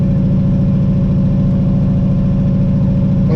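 A twin-turbo Chevrolet Camaro engine drones loud and steady on its first street drive, a dense low rumble with no pauses and no voices.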